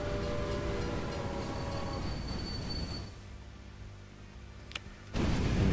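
A train runs on rails in the game Railway Empire, a steady rumbling rolling noise that fades down midway to a quieter hum before surging back loud at the end, with a brief sharp click in between.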